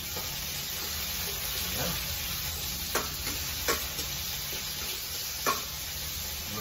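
Garlic and tomato fry softly in a pan with a steady low sizzle, broken by a few light clinks and stirring knocks, while a voice speaks briefly.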